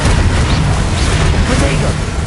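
A Confringo blast spell goes off in a Harry Potter video game, a loud, dense burst of noise that fills the whole clip with a sustained roaring rumble.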